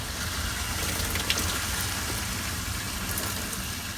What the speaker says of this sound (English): I got a lot more flow coming out of the shower here